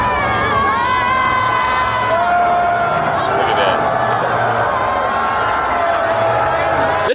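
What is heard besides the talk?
crowd booing Trump at a New York game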